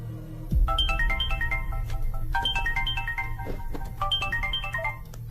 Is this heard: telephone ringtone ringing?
yes